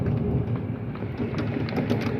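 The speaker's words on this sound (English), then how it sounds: "You guys can kind of hear how this sounds while it's raining." Heavy rain pours steadily during a severe thunderstorm with hail and gusty wind, a dense, continuous low roar with faint rumbling and scattered splashes, close and even throughout, no voices.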